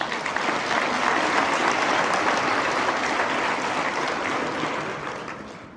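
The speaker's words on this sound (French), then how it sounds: "applaudissons nos partenaires de la catégorie Or" An audience at an agricultural hall of fame awards ceremony in Quebec applauds steadily, a dense, loud wash of clapping that holds for several seconds and then begins to fade.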